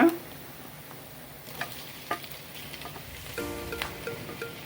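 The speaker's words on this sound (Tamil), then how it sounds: "இப்போ வந்து தக்காளியை கொட்டிக்க வேண்டிட்டாங்க" Tomatoes go into a pan of golden fried onions, with a low, even sizzle and a handful of sharp little clicks and scrapes from the pan, no talking.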